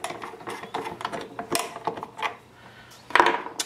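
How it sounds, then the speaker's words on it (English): Wrench turning off the charging handle of a first-generation Hi Point 995 carbine, a run of close, sharp ratcheting clicks and small metallic rattles, a brief pause, then a final louder clack, with no talking. "Next we will take our charging handle off, which will be a 7/16, and just unscrew it off."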